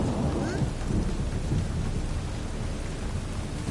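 Heavy thunderstorm rain in the video game The Witcher 3, a steady dense downpour with low rumbling thunder, loud and continuous with no talk.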